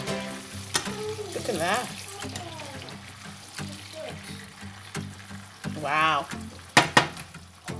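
Tomato being stirred in a pan for egg and spinach stir-fried noodles, sizzling and scraping close by with a few sharp clinks of the utensil, mostly under excited talk.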